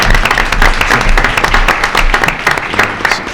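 A room of people at a school board meeting applauds, dense steady clapping close by and fairly loud throughout, with a low rumble underneath.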